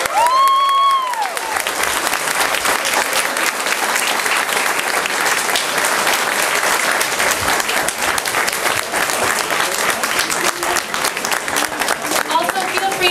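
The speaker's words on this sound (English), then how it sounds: "I believe Jake deserves another round of applause." An indoor crowd at a political media scrum for a leadership hopeful claps loudly and continuously, the applause close and dense, with a voice speaking briefly at the start and end.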